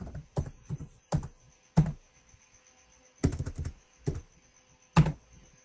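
Typing on a computer keyboard, close and fairly quiet, with irregular clusters of key clicks separated by short pauses.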